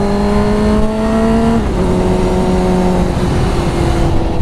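A Suzuki GSX-R 600 sport motorcycle engine revs loudly and steadily up close, its pitch climbing, dipping briefly, then holding high, with no talking.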